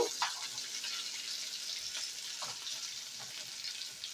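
Potato chips frying in oil, a soft, steady hiss of bubbling with faint clicks, close and fairly quiet throughout.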